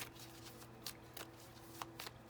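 A tarot deck is shuffled by hand, with a steady soft riffling of cards and several sharper card snaps, faint and close, without talking.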